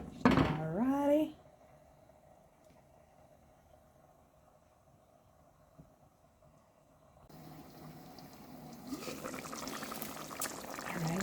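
Jamaican saltfish rundung boils in a covered pot, a faint low bubbling that builds into a louder, steady rolling boil after a brief voice at the start.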